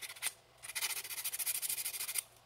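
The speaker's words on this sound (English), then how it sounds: "So you just sand it off." Sandpaper rubbed over a 3D-printed part, starting with a brief scrape, a short pause, then a fast run of close, steady back-and-forth sanding strokes, fairly loud and with no voices.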